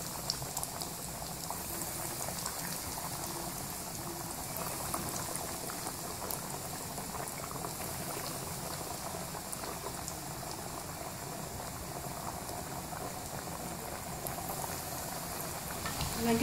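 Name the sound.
chicken nuggets frying in oil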